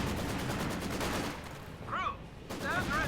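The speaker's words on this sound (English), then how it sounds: "251 flak track causing some damage in the garrison" A German 251 flak half-track fires rapid bursts at a garrisoned structure in Company of Heroes 2, a dense stream of cannon shots, then a brief lull before firing resumes.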